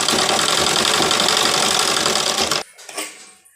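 A sewing machine stitches a blouse hem in a loud, steady, close whirring run for more than two seconds, then stops abruptly, leaving soft handling noises.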